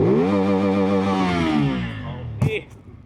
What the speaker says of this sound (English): Rev mo.